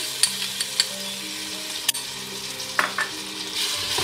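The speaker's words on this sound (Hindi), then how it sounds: "अब मैं इसमें ये लहसुन अदरक की पेस्ट डालूँगी" Garlic-ginger paste sizzles and fries with whole garam masala spices in a pan for a keema and potato dish, with steady crackling hiss, a few sharp clinks of a spoon against the pan, and stirring scrapes near the end.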